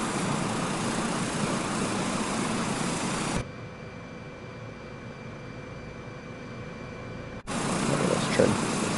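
A helicopter in the Microsoft Flight Simulator 2024 video game on PS5 gives a steady, loud rotor and engine roar that drops to a quieter hum midway, then returns at full strength.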